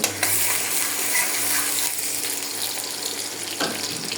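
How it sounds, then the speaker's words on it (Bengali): Onions sizzling in hot oil for a baghar tempering poured over a beef and potato curry, a steady broadband frying hiss with a brief stir or splash near the end. "এখন বাগার দিব, কিছুটা পেঁয়াজ রাখছিলাম ওই বাগারের জন্য দিয়ে দিলাম।"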